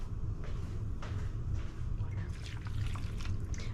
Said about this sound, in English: I'm gonna pour about a half a cup of water into this